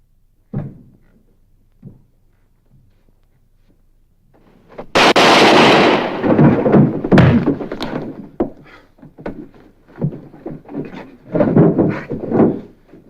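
Gunfire in a 1950s western TV shootout: a loud sharp blast cracks out near the middle, followed by further bursts and scuffling thumps, with a few soft knocks beforehand.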